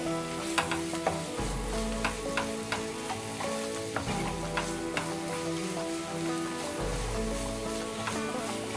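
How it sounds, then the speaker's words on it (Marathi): Onion, tomato and spices, including bedgi chilli powder, sauté in a pan over a medium flame for an egg dish. A steady close sizzle runs throughout, with frequent light clicks and scrapes from stirring. "आता हे सर्व साहित्य छान असं परतून घ्यायचं आहे, म्हणजे हे सगळे मसाले ह्या कांदा टोमॅटोला छान कोट होतील।"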